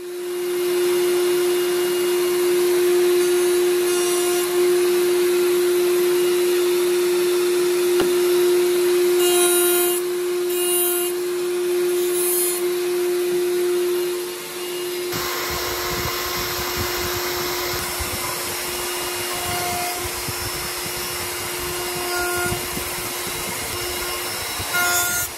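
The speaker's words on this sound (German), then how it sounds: "Nach und nach werden alle Hammerköpfe mit der Fräsvorrichtung bearbeitet." A milling device shapes the hammer heads of a Yamaha SC grand piano with a steady, continuous machine whine and hum. Its tone shifts partway through and then carries on evenly.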